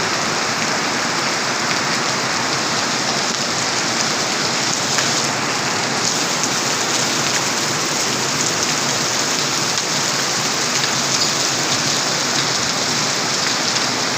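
Heavy rain pours steadily at a gurdwara, a dense, loud and unbroken wash of water hitting surfaces for the whole stretch, with no voices and no clear thunder.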